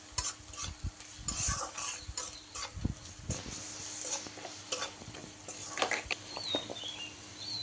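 Spices with turmeric stirred and fried in a pan for a mixed vegetable curry, close irregular scraping and tapping of a spoon over a gentle sizzle, with faint bird chirps in the background.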